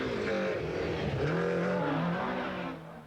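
Rally car engine at high revs racing through a stage, loud and continuous, the pitch rising and dipping with gear changes before fading slightly at the end.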